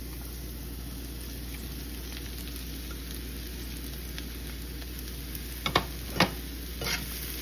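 Michigan wild mushrooms with onions, shallots and garlic sizzle softly in a pan over medium heat, a quiet constant hiss broken by a few clicks of a utensil stirring near the end.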